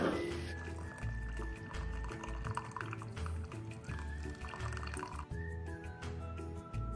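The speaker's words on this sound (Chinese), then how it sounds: "水开后倒出300毫升" Hot water boiled with pandan leaves is poured out of a pot in a kitchen, a steady liquid stream with splashing and dripping, close and fairly quiet.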